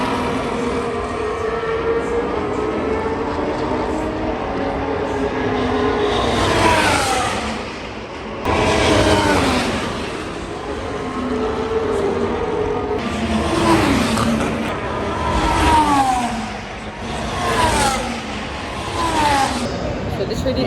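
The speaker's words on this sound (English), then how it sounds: "you can hear the practices. They just started Formula 1." Formula 1 cars at practice during the Abu Dhabi Grand Prix roar past in repeated waves, engine pitch sweeping up and down as they pass at a distance, over steady crowd and track ambience.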